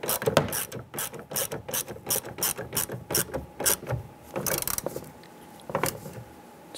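Hand ratchet tightening a bolt on a rear door lock actuator of a 2002-2008 Dodge Ram 1500, a rapid series of close, crisp clicking strokes in uneven bursts, pausing briefly before a last few clicks.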